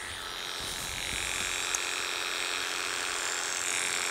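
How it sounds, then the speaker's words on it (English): Electric hair clippers buzz steadily while trimming hair around a cow's hoof before a toe amputation, a close, continuous high whine with no talking. "there's a pair of clippers I prepared earlier"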